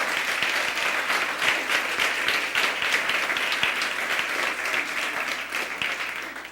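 Church congregation applauding in a steady, dense wash of clapping during a worship service, sustained and fairly loud throughout with no speech over it.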